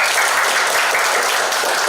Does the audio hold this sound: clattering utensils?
no